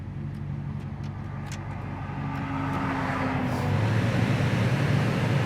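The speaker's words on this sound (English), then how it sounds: "Listen to how it idles down." A 1956 Chevrolet 210 engine idles steadily, a low continuous rumble that settles and thickens slightly over several seconds, with no voices.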